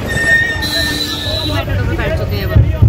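A metro train running on its line toward Shalimar, with steady rumbling rail noise and high-pitched wheel tones throughout, loud and close from inside the carriage, with voices talking over it.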